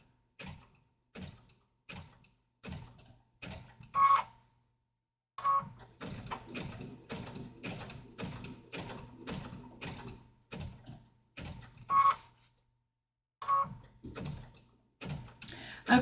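A sewing machine stitches a tight zigzag satin stitch in short bursts, each a quick rhythmic mechanical clatter, separated by brief silent pauses.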